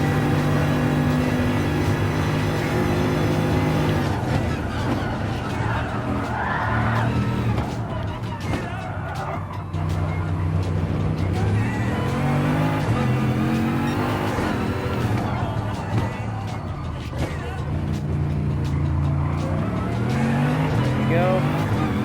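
Race car engine in the Gran Turismo Sport racing game, droning and revving through shifting pitches with tire squeal, while someone talks over it throughout.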